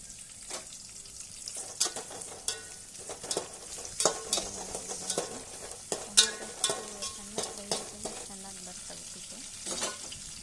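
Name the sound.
tomato frying and being stirred in oil for uppittu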